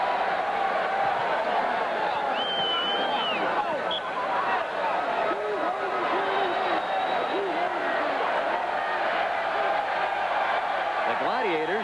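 Home crowd at a 1987 Arena Bowl football game in Pittsburgh, a steady distant roar of the arena crowd beneath continuous play-by-play commentary.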